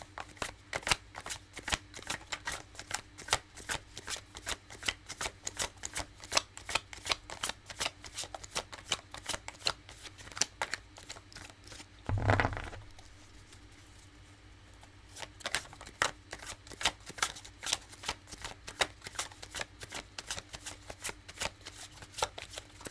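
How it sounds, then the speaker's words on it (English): Rapid crisp riffling of a tarot deck, repeated in bursts, broken midway by a single heavier thump and a short quiet gap before shuffling resumes. "I usually just take the top card on the third shuffle."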